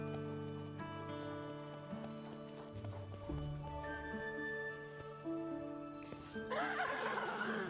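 In Disney Dreamlight Valley, a ridden horse trots with steady clip-clop hoofbeats over sustained game music, and a bright whinny-like flourish follows near the end.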